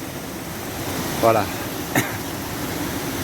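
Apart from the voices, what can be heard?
waterfall rushing water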